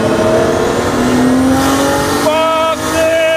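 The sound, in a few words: Nissan Skyline R32 GTST accelerating in third gear pull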